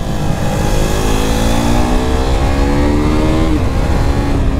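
A KTM RC 390 single-cylinder motorcycle accelerates hard, its loud, buzzy engine note climbing steadily in pitch throughout, close and continuous with no talking.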